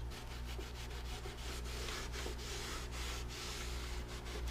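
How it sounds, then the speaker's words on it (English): Double-sided tape residue is sanded off a Lexus IS F before a Wald International Bison rear diffuser is fitted. Quick, rhythmic rubbing strokes repeat steadily at close range but fairly quietly, with no talking. "So all the double side tape is sanded."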